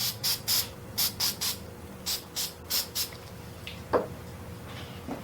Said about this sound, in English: I'm gonna spray right here.